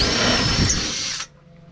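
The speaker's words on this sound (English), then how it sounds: "let's drill a hole" Power drill boring a pilot hole through a piece of starboard plastic sheet fitted into a wooden boat's propane locker, a steady loud whine for about a second and a quarter that stops abruptly into quiet.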